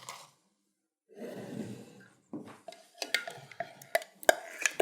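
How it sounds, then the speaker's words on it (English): Tahini and oil being mixed together for a kale salad dressing, a close stirring and scraping in a bowl that starts after a breathy exhale, then turns into irregular clinks and taps of the utensil against the bowl. "So I'm just going to mix all those ingredients together."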